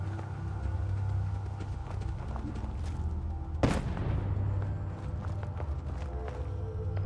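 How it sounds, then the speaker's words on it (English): Distant gunfire in the video game Fallout 4 comes as one sharp crack near the middle over a low ambient hum, with fainter scattered pops around it. No one speaks. "I'm hearing gunshots."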